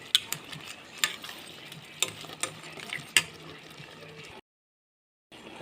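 Food frying in a pan while being stirred, with a steady sizzle broken by several sharp scrapes of a utensil against the pan, then a short gap of silence near the end.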